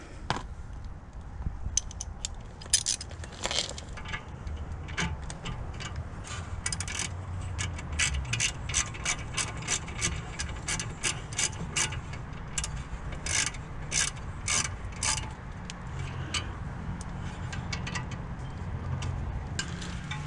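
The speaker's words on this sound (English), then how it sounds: "get this first top bolt put in, this bottom bolt twisted in. And you just tighten these down." A ratchet tightens the brake bolts on a BMW E46 330i 3 Series. The pawl clicks in quick repeated runs close by, with short pauses and faint metallic handling between strokes.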